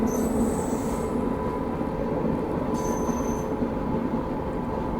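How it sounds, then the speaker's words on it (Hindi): Steady, dense rumble of the Kaifiyaat SF Express running at speed while overtaking the Vaishali Superfast Express, heard from on board, with faint high wheel squeals rising briefly above the continuous rail noise. "यहाँ पर हम लोग जो है वैशाली को ओवरटेक मार रहे हैं"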